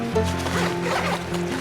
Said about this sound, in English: it has a completely separate zipper